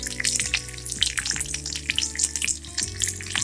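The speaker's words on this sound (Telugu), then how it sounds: "ఇప్పుడు తాలింపు అయిపోయింది" Red chilli, garlic, curry leaves and asafoetida sizzle and crackle in hot oil for an Andhra-style tomato dal tempering, a steady close frying hiss with scattered pops and no talk.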